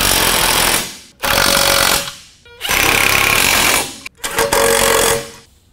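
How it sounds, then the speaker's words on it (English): A power tool tightens the intercooler brackets during an Aerocharger turbo install on a RZR 1000. Four loud, close bursts of rattling tool noise run back to back, each lasting about a second, with brief pauses between them. "tighten up the intercooler brackets"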